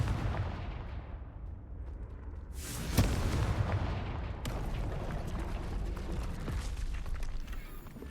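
A Confringo fire spell blasts in Hogwarts Legacy, a sharp impact landing over a dense, continuous roar of rumbling noise that swells after the hit and stays loud to the end.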